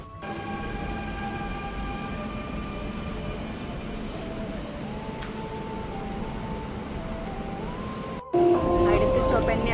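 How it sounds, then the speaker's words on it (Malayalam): A Dubai Metro train rumbles loudly along the track with sustained squealing wheel tones that rise and shift in pitch, ending with an abrupt change as the ride continues. "വെയിറ്റ് ചെയ്യാം മെട്രോ വരാൻ."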